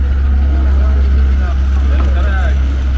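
A motorboat engine drones steadily and loudly throughout on a trip to the Hara mangrove forests of Qeshm Island, Iran, a constant low rumble with faint voices mixed in.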